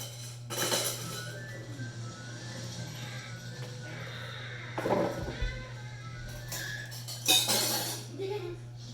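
Milk tea is stirred in a cup with a spoon, making a few light clinks and scrapes in a quiet room, with scattered background noise.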